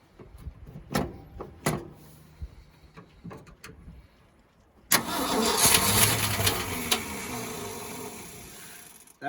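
A 1971 Ford F600 truck that has sat since 1992 gives a few scattered clicks and knocks, then its engine catches suddenly and settles into a loud, steady, slightly rough idle up close.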